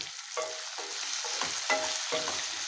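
Tomatoes cook in a pan of tempering for a spinach dish, a soft, quiet sizzle broken by several spaced scrapes and stirs of a spoon against the pan.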